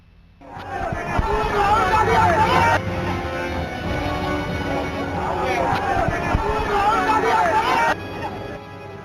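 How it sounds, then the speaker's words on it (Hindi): A large crowd at Rahul Gandhi's march in Bandra, Mumbai, fills the air with a steady loud babble of many voices and outdoor street noise throughout. "भीड़ का ये हुजूम है मुंबई के बांद्रा इलाके का।"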